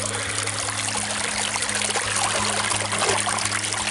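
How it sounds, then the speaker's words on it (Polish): Water from a stream close by, trickling and pouring steadily with no break, with a faint low hum underneath. "W ogóle słyszę nieopodal strumień"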